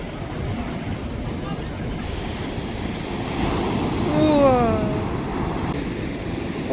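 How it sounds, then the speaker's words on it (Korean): Strong surf along the coast at Sokcho, Korea, breaking in a steady roar that swells to a louder crash midway through, with wind rumble on the microphone and a short high cry above the waves. "오늘 파도가 어제보다 훨씬 센 것 같아요."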